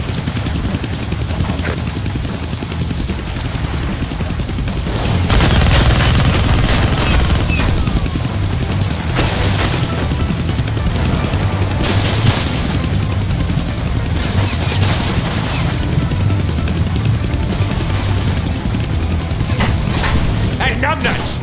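Deadpool video game combat: a helicopter rotor drones steadily while gunfire bursts and impacts crackle through it, loud and busy, with a character's voice talking over the action.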